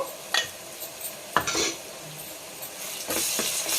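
Ginger-garlic paste frying with onions in a pan for gongura mutton: a soft sizzle under repeated spatula scrapes and light clinks against the pot, fairly quiet and close.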